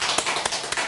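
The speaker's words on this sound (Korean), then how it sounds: "함께 감사의 박수 한번 올려드리겠습니다." A church congregation claps in thanks during a Sunday service, a brief burst of dense hand claps with a few sharper slaps standing out.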